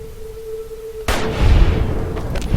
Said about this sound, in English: Make use of our sniper rifle.